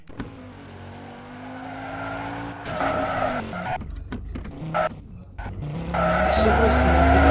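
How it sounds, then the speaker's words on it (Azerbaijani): A modified car drifts with its engine revving hard and its tires squealing and skidding in loud, repeated bursts, growing louder toward the end. "Bir dənə belə driftlər ataraq."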